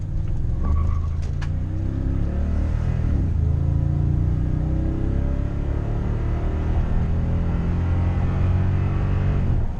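Lifted 2016 Toyota Tundra TRD Pro truck accelerating hard, a loud steady engine roar with rising harmonic sweeps as it climbs through the revs, heard from inside or close by with no talking.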